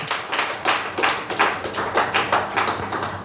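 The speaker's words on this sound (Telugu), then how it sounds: "చప్పట్లు కొట్టండి ఒకసారి" An audience claps hands together during a church festival sermon, a steady run of sharp, fairly close claps repeating in a loose rhythm for several seconds with no talking.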